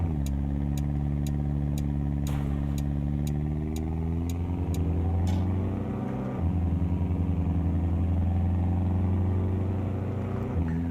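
A BMW M4 engine in Euro Truck Simulator 2 revs and holds a steady drone, rising and falling in pitch, loud and close, with a brief dip before it surges again.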